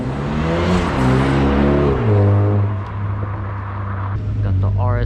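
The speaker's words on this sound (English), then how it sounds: "Oh! Okay, got the Supra leaving." A Supra sports car pulling away from a car meet at a shop's grand opening, its engine revving and droning loudly up close, with people talking over it.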